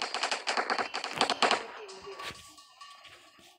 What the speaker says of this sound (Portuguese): Precisa matar com uma metralhadora